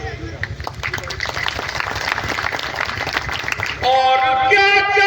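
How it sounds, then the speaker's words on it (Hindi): An audience applauds after a nazm recitation at a poetry gathering, a dense clapping wash that is steady at first, then gives way to a voice with tonal accompaniment near the end. "तालियां बजाइए"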